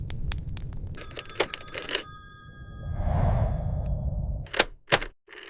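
A telephone rings with a bright, trilling bell over a couple of seconds amid scattered clicks, followed by a soft rushing noise and a few sharp knocks.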